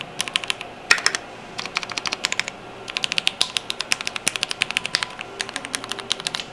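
Mechanical keyboard keys clack in quick bursts of crisp, clicky presses, close and fairly quiet, with brief pauses between runs.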